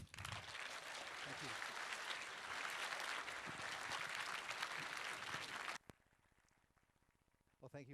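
Audience applause for a speaker at a C++ conference talk: a dense, loud wash of clapping for nearly six seconds, then an abrupt cut to near silence with a voice starting to speak.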